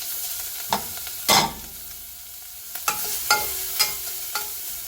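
Grated carrot sizzles in ghee in a pan, with a steady low frying hiss broken by several sharp scraping stirs of a spoon against the pan.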